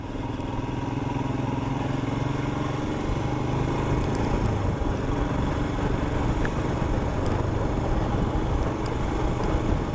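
A Royal Enfield Himalayan motorcycle rides in third gear at about 30 mph near 3,000 RPM, its single-cylinder engine giving a steady, loud throbbing drone with wind rush, continuous for the whole stretch.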